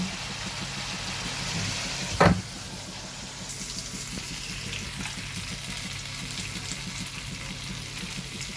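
A spiced potato ghugni mixture sautés in a pan with a steady, close sizzle. One brief metallic clank of a utensil cuts through early on, then the frying continues evenly.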